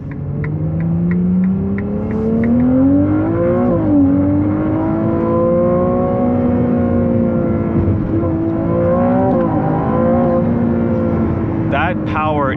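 A 2024 Ferrari 296 GTB, rear-wheel drive, accelerates hard from inside the cabin, engine note climbing in steady sweeps with brief dips at automatic upshifts around four and nine seconds, loud and continuous throughout.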